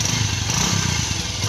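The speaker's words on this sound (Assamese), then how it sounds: "লাহে লাহে বাইক চলাবা দেই" A motorbike engine runs close and loud with a steady low, throbbing idle and no speech over it.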